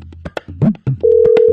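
A steady, loud phone disconnect tone cuts in after a call drops, following a few brief murmured sounds and continuing unbroken to the end.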